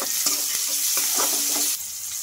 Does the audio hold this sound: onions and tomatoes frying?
yes